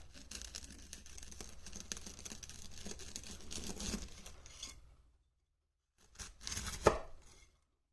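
A bag of dry-poured concrete is cut open with a blade: close, scratchy tearing and crunching for several seconds, a pause, then another short burst of cutting and rasping.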